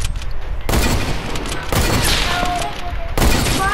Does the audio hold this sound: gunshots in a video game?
yes